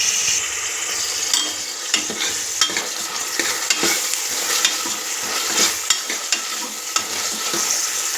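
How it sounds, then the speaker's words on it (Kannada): Ginger garlic paste sizzles in a pan for a bamboo shoot and chicken curry, with a continuous fry and frequent sharp spatula scrapes and taps close by. "ನಾವೀಗ ಶುಂಠಿ ಬೆಳ್ಳುಳ್ಳಿ ಪೇಸ್ಟನ್ನು ಸೇರಿಸೋಣ. ಇದನ್ನು ಕೂಡ ನಾವು ಚೆನ್ನಾಗಿ ಬಾಡಿಸ್ಕೊಳ್ಬೇಕು."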